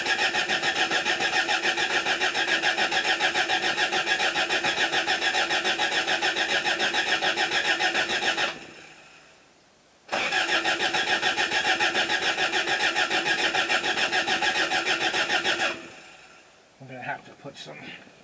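A 1977 Toyota Celica engine is cranked with the key in two long, steady, buzzing cranking runs of about eight and six seconds, separated by a short silence, ending with faint knocks and clatter.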